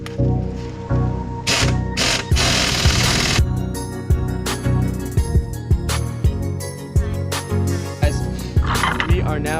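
Ratchet clicking in short repeated bursts while tightening bolts on a Saab 9-3 TurboX strut assembly, close and fairly loud with metallic clatter between strokes.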